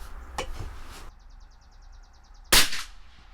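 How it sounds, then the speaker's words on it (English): Two sharp, fairly close reports from a CZ 457 .22 LR rifle firing Eley ammunition outdoors, one faint early crack and a louder one later, with a brief ticking sound in between. "Let's get shooting."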